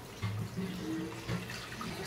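Water poured into a pot for crab curry, a brief soft gurgling splash with a couple of louder bursts, faint and close, no talk.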